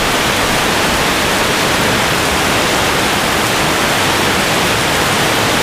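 Hot shower water in a hotel bathroom at Laha near Ambon runs with decent pressure, a loud, constant broadband hiss unbroken from start to finish.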